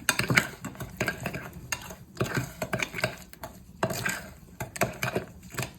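A spoon stirs coleslaw dressing of mustard, salt, pepper and sugar in a bowl, making a quick, continuous run of clinks and scrapes that rise and fall in short bursts, close and moderately loud.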